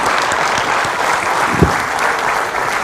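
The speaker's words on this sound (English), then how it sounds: "please give a really big round of applause to our wonderful speakers" Audience applause for the speakers at the close of a fintech panel session at a Singapore India business dialogue, a steady dense clapping that runs evenly throughout with one brief louder thump midway.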